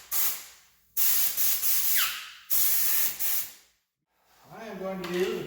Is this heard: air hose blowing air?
yes